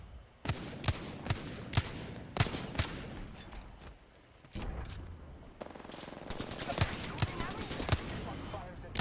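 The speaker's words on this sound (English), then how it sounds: "Shots fired at me." Apex Legends gunfire comes as sharp, evenly spaced single shots, then after a short lull turns into rapid bursts of fire, loud and close, with a player talking between the shots.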